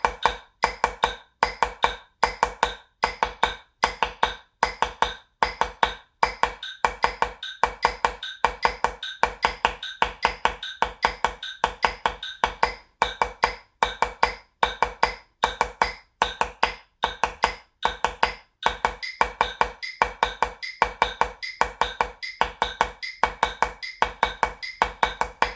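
Rhythm-grid exercise played at 75 bpm as a steady stream of sharp percussive clicks and taps, dense and evenly pulsed, close and loud with no talking.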